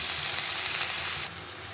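Pumpkin, spinach and potato hit hot oil already tempered with dried red chilli and bay leaves, giving a loud, steady sizzle that drops abruptly to a quieter hiss near the end.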